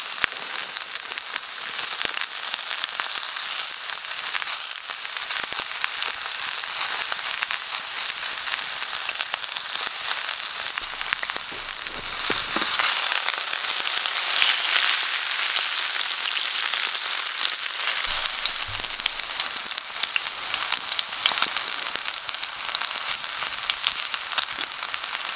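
A ribeye steak sizzles in a cast iron pan on a wood stove, giving a steady broad hiss with fine crackles throughout and a louder, brighter swell partway through.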